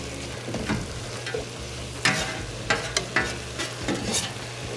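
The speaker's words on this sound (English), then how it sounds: "So now we're going to add our hamburger into the dish. And if you want to go ahead and start stirring" Ground hamburger meat stirred in a hot pan for gluten-free unstuffed peppers, with a low sizzle under irregular scraping and knocking spoon strokes, close by and with no voices.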